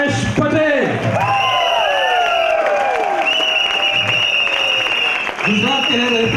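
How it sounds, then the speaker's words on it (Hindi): Audience applause and cheering welcoming a doctor onto the stage at a Mumbai event, with a broad wash of clapping throughout, whoops and crowd noise mixed in, and a speaking voice rising over it. "जोरदार तालियों से स्वागत कीजिए"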